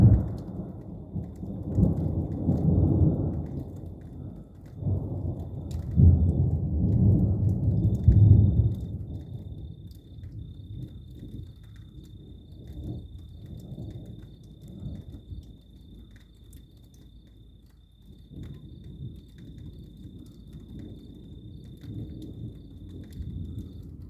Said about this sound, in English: and it is thunder and lightning big time.